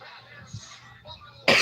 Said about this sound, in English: I'm sorry if you guys hear coughing,